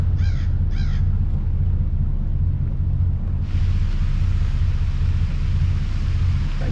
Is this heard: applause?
no